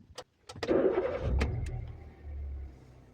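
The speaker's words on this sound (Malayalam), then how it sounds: "ഇപ്പോൾ വാഹനം സ്റ്റാർട്ട് ചെയ്യാം" A car engine cranks with a few sharp starter clicks, catches, and then settles into a low, steady idle, heard close up with no talking.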